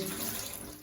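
Water runs and splashes steadily at close range as a person's face is washed at a shower, with no voices during the brief moment.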